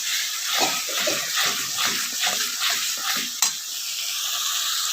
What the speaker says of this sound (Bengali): টমেটো কাঁচা লঙ্কা পেস্ট দিয়ে দিলাম খুব ভালো করে নাড়াতে হবে যাতে পুরো কষে যায়